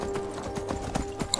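Horse hooves clip-clop in Skyrim, a steady run of hollow, close thuds at a brisk walking pace over a constant ambient background, with no talk.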